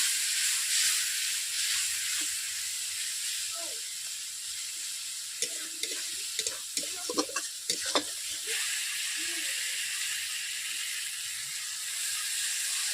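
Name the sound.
frying masala for fish curry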